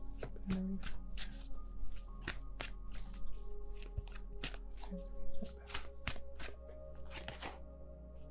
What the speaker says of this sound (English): let's put down the other cards